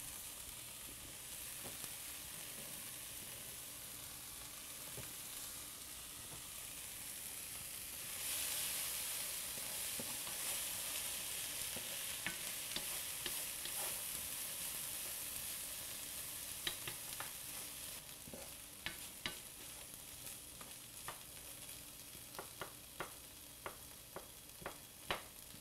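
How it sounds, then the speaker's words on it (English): Corn, peppers and garlic sautéing in a pan, a steady hiss of frying with occasional clicks and scrapes of stirring that grow busier toward the end, fairly quiet and close, with no voices. "we've sauteed our corn and our peppers and our garlic"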